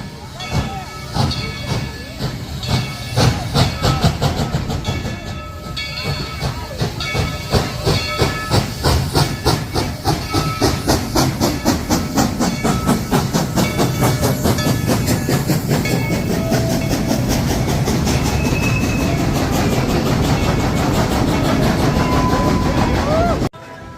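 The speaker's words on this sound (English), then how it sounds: "We will not be catching a train ride because it is now taking off." A steam train pulls away from the station at Dollywood with loud, continuous hissing steam and rhythmic chuffing. The clickety-clack builds steadily as it departs, with no talk.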